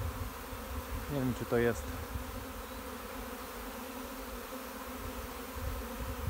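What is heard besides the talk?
honeybee swarm buzzing at an apiary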